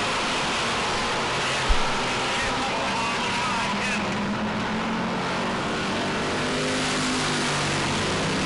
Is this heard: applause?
no